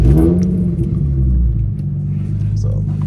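A Nissan 350Z HR with an odd gear-shift feel, its engine rumbling up close from inside the car as it pulls away and revs, with a voice talking over the drone.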